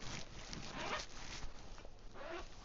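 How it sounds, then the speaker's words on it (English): A slightly stiff zipper on a Volante Mass Effect trench coat is pulled, giving continuous close rasping and scraping for a few seconds. "The zipper is a little bit stiff."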